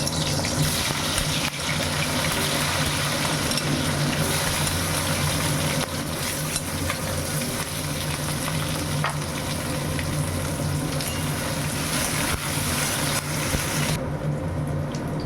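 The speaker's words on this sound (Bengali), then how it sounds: "এখন আমি আস্তে আস্তে আলুগুলোকে ভেজে দিচ্ছি।" Potatoes frying in hot oil in a kitchen pan, a loud, dense, continuous sizzle heard up close with faint stirring and a low background hum.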